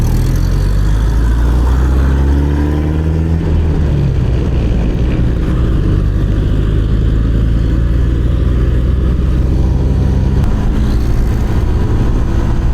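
A Honda Winner X motorcycle engine drones steadily and loudly while riding on the road, with wind rush and shifting engine pitch throughout and no talking.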